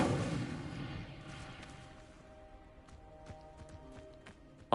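The Incendio fire spell from Hogwarts Legacy is cast with a rushing whoosh that trails off. Light clicks and knocks follow, then a sharp hit at the very end.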